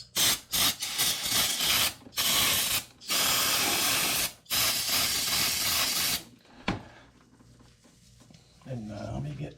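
Aerosol brake cleaner sprayed onto sludge-caked clutch parts of a 1981 Harley-Davidson FXS-80 Low Rider, several loud hissing bursts separated by short gaps, then quieter handling noise and a brief voice near the end.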